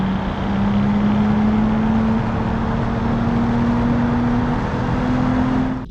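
A compact premium car from the 1980s-era Automation car-design game is driven hard, its engine holding a loud, steady, slowly rising drone for several seconds with no talk.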